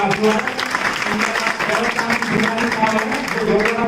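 An audience at a community gathering claps in a continuous, fairly loud ripple, with voices mixed into the applause.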